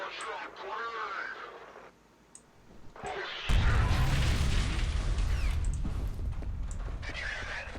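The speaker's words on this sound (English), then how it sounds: "Watch out, grenade!" A grenade goes off in a video game with a sudden loud, broadband blast about halfway through, then a long rumbling roar. Quieter game sounds come before it.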